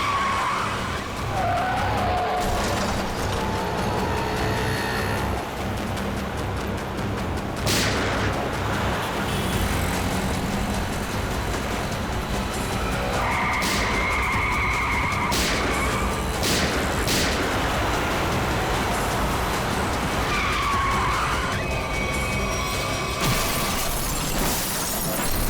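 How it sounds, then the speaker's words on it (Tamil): Heavy road traffic with many cars rushing past, tyres screeching and skidding amid loud crashing impacts, a dense, continuous roar of vehicles and engines throughout. "நிறைய வண்டி போயிட்டு இருக்கு."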